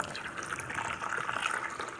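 Water pours steadily from a cup onto a seed-starting disc, a continuous close trickling gush lasting about two seconds with no talk.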